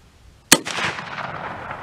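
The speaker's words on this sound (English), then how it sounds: "Now I'm only taking three shots" A single sharp, loud rifle shot, from a .30-30 or .30-40 Krag fired off a lead sled outdoors, cracks after a moment of quiet and is followed by a rolling echo.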